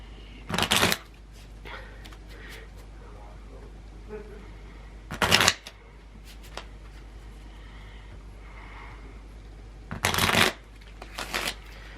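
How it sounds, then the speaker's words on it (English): Three bursts of playing cards being riffle-shuffled, each about a second long, spaced evenly with quiet handling sounds between. "I'm gonna shuffle these cards for you."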